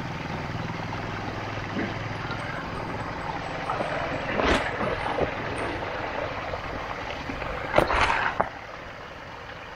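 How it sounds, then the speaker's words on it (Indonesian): A DJI Spark drone flying over a rural hamlet, a steady whirring propeller drone at a distance, with a couple of louder passing swells. "saya menggunakan drone DJI Spark dengan satu baterai yang sudah dimut"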